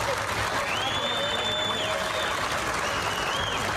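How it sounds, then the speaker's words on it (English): Sustained applause from a crowd of police colleagues as officers leave a courthouse in Buffalo, steady clapping throughout with a faint siren-like tone wavering above. "they were applauded by their colleagues as they left the courthouse"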